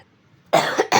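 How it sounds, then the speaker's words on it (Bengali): A person with a cold coughs in two harsh, close bursts, the second following shortly after the first, with a near-silent moment before them. "দেখো কথা বলতে বলতে কাশি চলে আসছে আমার"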